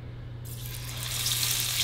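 Food goes into oil heated to about 300 degrees for deep frying, and a bright sizzle swells up sharply and keeps building in a steady, close crackle.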